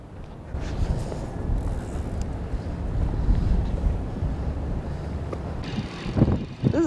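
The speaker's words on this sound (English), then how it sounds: "it's so windy on that side" Gusty wind buffets a microphone on a bay fishing pier, a steady low rumble for about six seconds; near the end a brief higher tonal call cuts through.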